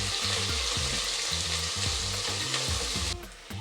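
Onions and green chillies frying with whole spices in a pan for tomato rice, a dense continuous sizzle close up with background music and a slight drop near the end.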